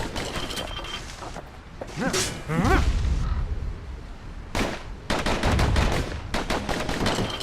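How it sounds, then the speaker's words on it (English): Two slinger pistols fire in the video game Bastion, loud and close in rapid, crackling volleys. The bursts come in uneven clusters with brief lulls, and there is no speech. "You know what's better than having a slinger pistol in a fight? Having two."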